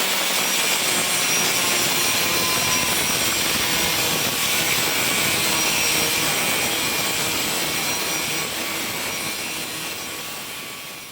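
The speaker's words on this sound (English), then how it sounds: "So what we'll do is get the 4-inch grinder and we'll start cutting all of our teeth out." A 4-inch angle grinder cuts steel teeth for a log arch hauler, a loud continuous high-pitched whine and grinding roar that holds steady, then fades slightly at the end, with no talking.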